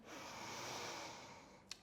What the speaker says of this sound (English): Big breath in.